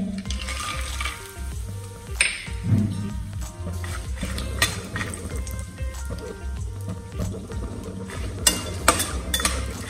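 Peanuts and curry leaves roast in a hot pan for a Khandeshi masala khichdi, giving busy crackling and popping with scraping stirs throughout, fairly close, with no voices.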